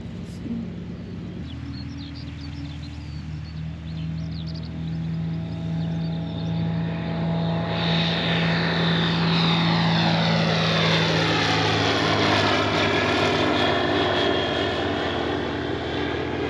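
A small propeller aeroplane manoeuvres on the ground and then takes off, its engine drone steady at first before swelling into a loud, rising roar that dominates the scene.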